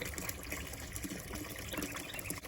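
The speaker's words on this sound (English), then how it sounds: "Getting water way out here." Water trickling and gushing steadily out of an outdoor source in a remote spot, a continuous close splashing flow with no talk over it.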